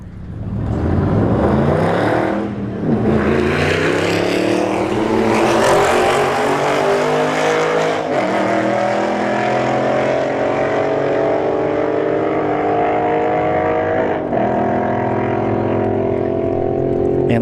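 An Audi sedan and an Alfa Romeo Stelvio Quadrifoglio launch side by side at a drag strip, with loud engine roar climbing through the gears and brief dips at each shift, sustained and close.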